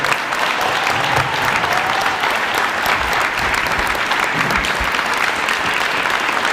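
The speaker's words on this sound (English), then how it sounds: "a round of applause for the class of 2020" Steady, dense applause from a banquet audience honoring the Muskogee Athletic Hall of Fame class of 2020, loud and continuous throughout with no talk over it.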